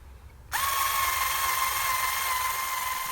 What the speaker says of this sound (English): screwing that in with the electric cordless screwdriver